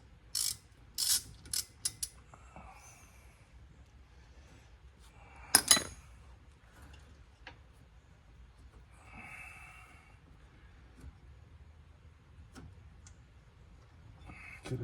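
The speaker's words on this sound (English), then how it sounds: "now let me take the caliper loose back here in the back." A ratchet loosens a bolt on a front brake caliper of a 2000–2005 Ford Taurus/Sable, giving short bursts of clicking in separate spurts, with a louder clatter near the middle and faint handling noises between them.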